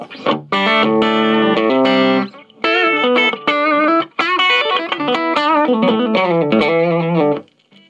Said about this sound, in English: you get some cool Plexi distortion out of it